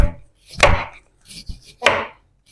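Knife chopping frozen food finely on a board in a home kitchen, with three sharp, heavy cutting strikes spaced apart and near.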